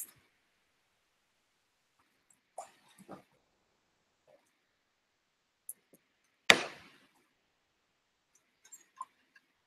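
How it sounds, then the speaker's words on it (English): A dog barks in a video being played back, giving a few short, scattered barks, with one sharper bark standing out. The sound is faint and distant, and no one speaks. "the end where the dog barks when he walks in the house"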